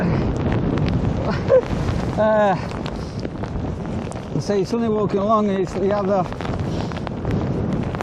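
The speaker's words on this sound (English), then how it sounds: "you've got all the gusts coming into you" Gusty Storm Darragh winds roar across the Skegness seaside, buffeting the microphone with low rumbling bursts throughout, while a person talks over the noise.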